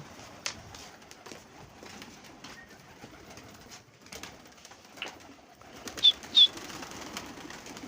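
Gola pigeons kept by pigeon fanciers coo softly at a moderate distance, with sparse chirps and a couple of sharp wing flaps close by near the end.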